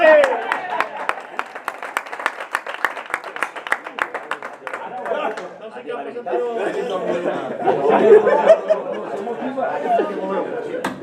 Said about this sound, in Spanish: ¡Un aplauso para el Chato!